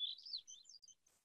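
A hermit thrush sings a short series of high, fluting whistled phrases, clear and fairly faint, ending in a buzzy trill.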